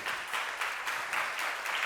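Audience clapping at a Startupfest 2019 talk, a steady wash of many hands applauding at moderate distance with no talk over it.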